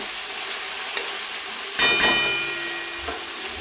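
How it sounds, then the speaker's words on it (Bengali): Green tomato frying in a pan for a bata fish curry: a steady, close sizzling hiss with a brief clatter of stirring partway through, then the frying carries on alone. "টমেটোটা যতক্ষণ পুরো ভালোভাবে গলে যাচ্ছে না ততক্ষণ আমি ভাজতে থাকবো"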